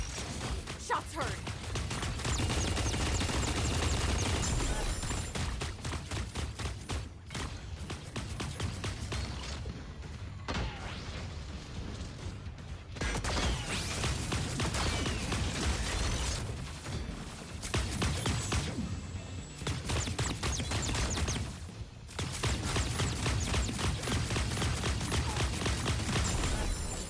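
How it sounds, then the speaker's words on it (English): Rapid gunfire and mechanical clatter from a mech video game, dense and loud throughout with a few brief lulls, with a voice talking over the action. "Shots heard."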